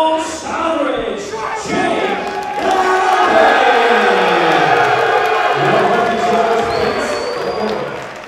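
Loud boxing arena crowd cheering, roaring and whooping steadily for a fighter's ring walk at a live Christmas card show, with music playing underneath.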